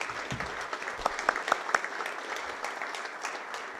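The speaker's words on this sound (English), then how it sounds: "So that's worthy of an applause." An indoor audience at a downtown community event claps steadily for a police team, a dense wash of applause lasting a few seconds with a few sharper claps standing out.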